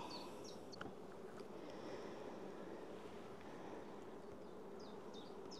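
Honeybees in a freshly opened hive colony, a soft continuous buzzing hum filling the background, fairly faint and even, with a few brief higher chirps from birds nearby and no talk.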